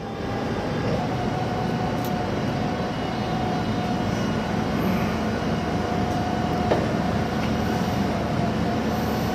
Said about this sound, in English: We'll run the mast all the way up, or as far up as we can go.